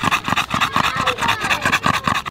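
Mimi the dog, said to have sleep apnea, snoring and breathing heavily up close, with rhythmic rasping inhale and exhale bursts about every quarter second.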